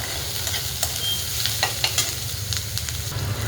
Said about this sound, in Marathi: आता आपला कांदा टाकून घेते